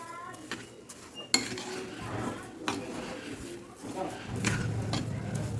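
Mango puran with sugar being stirred and fried in a pan, with scraping clinks of a utensil against the metal and a soft sizzle building toward the end, while someone talks over it.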